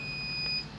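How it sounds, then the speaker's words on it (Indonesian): A continuity buzzer on a homemade electronics repair tester for LHE and LED lamps, used to check a diode for a short, gives a short, steady high-pitched electronic beep lasting under a second. "Ini buzzernya nyala"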